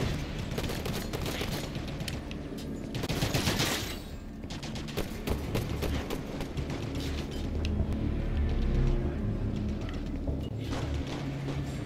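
Dense rapid gunfire from jackal enemies in a shooter video game, continuous volleys and crackling shots with mechanical clatter throughout.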